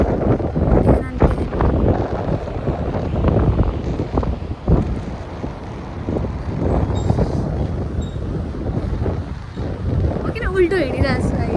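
Strong wind buffeting the microphone on a mountain trek near Kyanjin Gompa, a loud continuous roar with gusty surges, while a person talks over it throughout.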